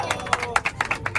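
A group of people at a social work college club event clap their hands, and the claps form a quick uneven patter of sharp close slaps with faint crowd murmur behind them.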